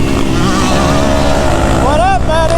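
A Yamaha YZ250F dirt bike engine idles and revs loudly and steadily up close in winter, its exhaust note rising briefly near the end, with a voice faintly underneath.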